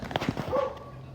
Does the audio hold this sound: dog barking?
yes